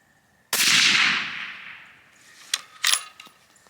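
A single loud rifle shot from a Seekins Precision Element cracks sharply and decays in a long echo, followed by a couple of quieter metallic clicks from the action.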